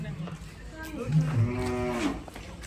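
Gir cows mooing close by, a few overlapping low calls drawn out and rising, with faint voices in the background.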